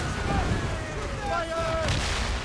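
Ship cannons in Assassin's Creed Rogue boom in a dense, rumbling naval barrage, layered with shouted commands over the din.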